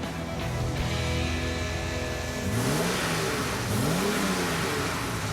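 A Jaguar car engine idles steadily, then revs up twice in rising, swooping bursts, fairly close with a raspy exhaust tone.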